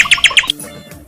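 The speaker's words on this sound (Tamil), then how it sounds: "ஒரு குருவி இருக்கு." Small sparrow held in the hand, giving four rapid, loud, shrill squawks close up, then quiet.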